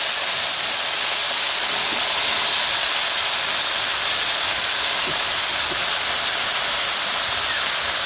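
Nihari fish sizzles hard in spice masala in a hot pan, a loud, steady, close hiss that runs unbroken for eight seconds with no talk.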